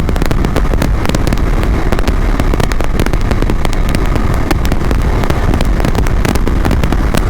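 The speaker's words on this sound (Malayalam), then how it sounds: "വിൻ ബ്ലാസ്റ്റ് നല്ലപോലെ ഉണ്ട്." Strong wind blast roars and buffets continuously and loudly around a rider on a Yezdi Adventure motorcycle cruising at about 110 km/h, with dense broadband rushing and rumbling throughout.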